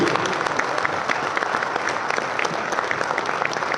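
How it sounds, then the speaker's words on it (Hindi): Sustained, loud applause from an audience at a Vestige Crown+ business meeting in Pune, steady dense clapping throughout with crowd noise beneath. "मैं कैसे जोरदार तालियां आप सबके लिए।"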